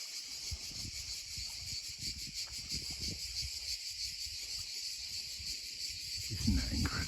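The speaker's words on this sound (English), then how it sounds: "I just listen to the cicadas." Cicadas in a sheltered sea anchorage, a continuous high shrill buzzing drone throughout, with soft splashing and low rumbles below, growing a little louder near the end.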